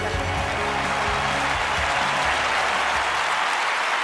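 Steady crowd applause from an Olympic event in the London 2012 video game, a dense, continuous wash of clapping that holds evenly throughout with a low tonal music or crowd bed underneath.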